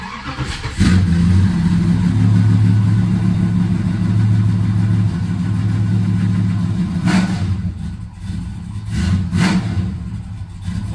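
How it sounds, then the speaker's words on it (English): A 1968 Dodge Coronet 500 with a 440 V8 fires from a dead cold start. It catches after a moment into a loud, rumbling, lumpy idle, then gives a couple of short throttle blips near the end. "For science, here's a dead cold start with our current tune settings."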